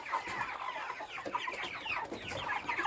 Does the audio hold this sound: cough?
no